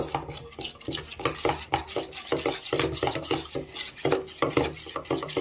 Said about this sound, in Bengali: এটা এখন দিয়ে দেবো এর মধ্যে ভালোভাবে মিশিয়ে নেব